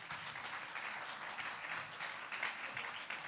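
A church congregation applauds strongly in praise of the Lord, a dense, steady wash of clapping that holds evenly throughout without a break.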